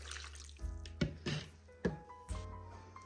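Water poured from a measuring cup into gluten-free, dairy-free yellow cake batter, heard as several short, faint splashes and drips with brief ringing tones between them.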